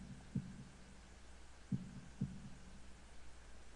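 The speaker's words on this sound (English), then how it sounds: "holding my breath in an attempt to hear my heartbeat" Three faint, low heartbeat thumps sound over a steady hum, a single beat followed by a double beat, in a quiet heartbeat effect from the Katawa Shoujo visual novel.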